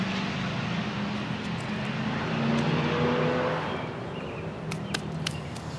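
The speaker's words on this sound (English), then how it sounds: "Everybody's out riding their Harleys for Memorial Weekend, so it's a little noisy." Harley motorcycles ride past on a road during Memorial Weekend, heard from a home garden as a continuous engine rumble that swells and then fades, moderately distant, with no talking.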